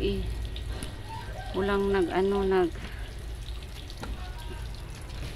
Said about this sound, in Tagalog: Malakas na po yung tubig.